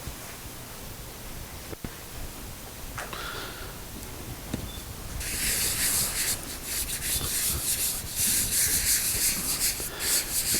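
A finish being rubbed by hand into a wooden woodworking project, a soft steady friction hiss that grows louder and denser partway through, continuous with no voices.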